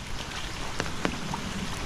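Heavy rain falling steadily outdoors during a storm that sets rivers overflowing, a dense continuous hiss with a few sharper drop impacts, moderately loud and without speech.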